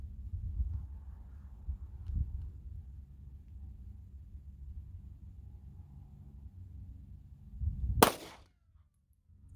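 A 9mm pistol fires a Winchester Ranger T-series 147 grain round during a velocity test: one sharp, loud crack near the end, preceded by quiet low background rumble and followed by near silence.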